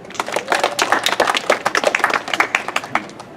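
A tour group claps together for a figure from Habsburg history during a guided walk in Madrid, a brief burst of dense, overlapping handclaps of moderate loudness with no talking over it.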